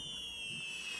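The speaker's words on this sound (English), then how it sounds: "They're shooting fireworks." Fireworks launched in the pirate video game Sea of Thieves, a steady hissing crackle with faint low pops underneath, heard alone at a moderate distance for about a second.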